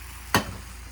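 Beaten egg for a dashimaki rolled omelette hits an oiled pan with one sharp sizzling burst that fades over a fraction of a second into a quiet background.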